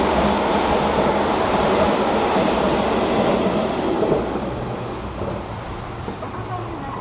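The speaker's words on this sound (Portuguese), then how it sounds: "12h26, 12h27 chega o trem." A train pulls into a station in Japan, a loud rolling rumble with rail clatter that gradually fades and settles as it slows, with a faint voice in the background.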